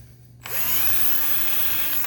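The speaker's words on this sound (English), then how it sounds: "Just be careful not to drill it all the way through." A power drill bores a hole into an amplifier enclosure, starting abruptly after a quiet moment and whining steadily at high speed for about a second and a half, close and loud, then cutting off.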